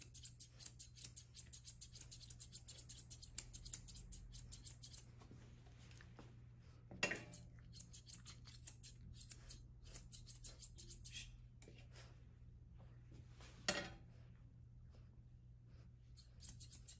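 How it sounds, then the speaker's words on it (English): Grooming scissors snip a dog's fur along the jawline. Light, rapid clicks come in quiet bursts with short pauses, and a low hum stays steady underneath. "now we're just gonna scissor what we trimmed here"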